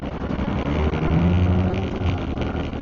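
Motorcycle riding on a mountain road near Mt Olis, Atok, Benguet, with a loud, steady engine drone and heavy wind buffeting the microphone, no voices.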